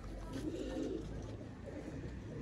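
Pigeon from a breeder pair in a loft setup cooing softly, a low murmuring coo repeated under steady background hum, moderately faint and close.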